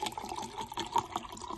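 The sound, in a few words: pouring lukewarm water into a glass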